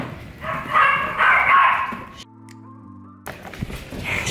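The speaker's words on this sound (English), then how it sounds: "You hear them? You hear the doggies?" Several dogs bark loudly and repeatedly indoors at a newly arrived foster dog, with overlapping yips and woofs, then a brief pause filled by a steady tonal hum before the barking resumes.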